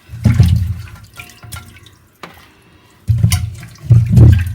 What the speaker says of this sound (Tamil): நான் வாங்கிட்டு வந்ததை சும்மா ஒரு டைம் அலசி எடுக்கிறேன்